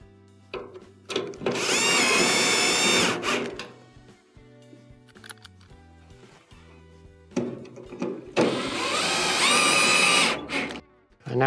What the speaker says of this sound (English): Install your 2 screws.